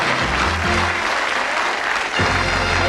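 Studio audience applause on a British darts game show, loud and steady across the whole moment with a thin band of music running underneath.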